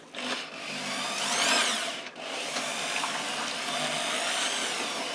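A power mixer churns mortar in a bucket for old stone wall restoration, a steady continuous whir with a brief dip partway through, fairly close and alone with no talking.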